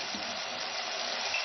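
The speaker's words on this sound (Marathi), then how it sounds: "भांडं जे होतं आपलं ते धुवून थोडं पाणी मिक्स करायचं आहे" Water gushes into a cooking pot that held a biryani marinade, a steady close pouring rush with no one talking.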